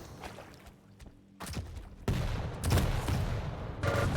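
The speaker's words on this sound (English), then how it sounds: "Rocket after rocket going down." Rockets launching and exploding in rapid succession during a Quake Pro League match, loud overlapping bursts and booms building in intensity, dense and continuous near the end.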